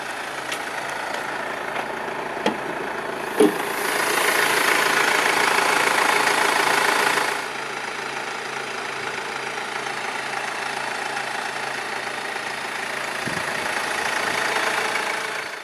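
A 2013 Mercedes-Benz E220 CDI with the OM651 2.1-litre twin-turbo diesel inline-4 idles steadily with a low, even diesel rumble, rising slightly in intensity for a few seconds before settling back to a constant idle.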